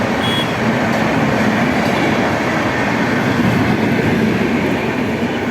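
A train passes along the railway line at Vikrampur, a loud, close, continuous rumble of wheels on track with faint rhythmic clatter and no speech throughout.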